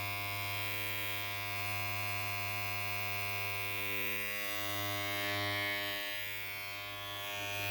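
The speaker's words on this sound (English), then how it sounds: "attach the number 2 guard with the clipper lever fully closed. Begin removing the bulk around the second guideline." A hair clipper fitted with a number 2 guard buzzes steadily while cutting semi-afro hair for a low round fade. The hum is close, even and unbroken, with no talking.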